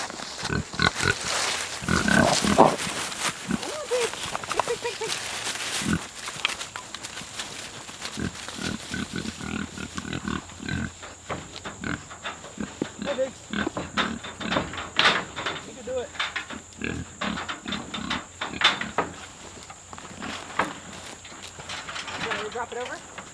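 Idaho Pasture Pigs and Kunekune pigs grunt and snuffle steadily nearby while people talk over them, with occasional clattering in the background.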